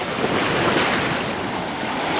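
Sea water waves wash in a continuous dense rush, loud and close, mixed with wind buffeting the microphone, with no voices.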